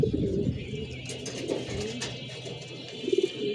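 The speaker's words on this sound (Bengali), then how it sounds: "ভালো হাইট নিয়ে কবুতরগুলো উঠতেছে" Pigeons coo outdoors during a flight session, soft low coos repeating a few times, ending with a brief burst of coos, over steady background noise.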